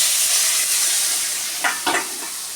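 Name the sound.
potatoes frying in pan with turmeric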